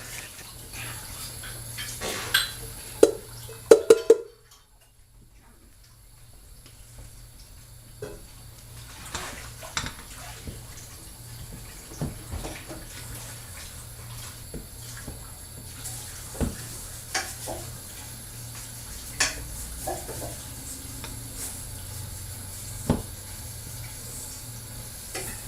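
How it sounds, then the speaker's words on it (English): Snickerdoodle dough being mixed in a bowl while the sides and bottom are scraped: repeated soft scrapes and clinks at irregular intervals, with a louder stretch of knocks early on, then a brief pause before steady quieter mixing resumes. "while you're mixing, you're scraping the sides and the bottom"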